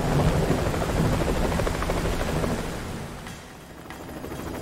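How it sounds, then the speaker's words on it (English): Helicopter in the video game Ninja Gaiden 3: Razor's Edge, a steady loud rotor and engine rumble blended with a broad storm-like roar that dips briefly near the end before swelling again. "The helicopter's ready. Time to go."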